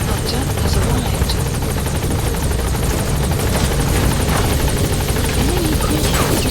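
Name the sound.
support helicopter arriving at landing zone in video game Metal Gear Solid V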